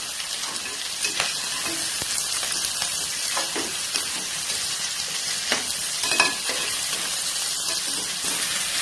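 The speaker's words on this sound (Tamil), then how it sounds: "எல்லாத்தையும் ஒரு பெரட்டி விட்டுக்கோங்க" Pieces of bottle gourd stir-fry in a pan with a continuous close sizzle, broken by repeated scraping and stirring knocks from a spoon all the way through, with no voices.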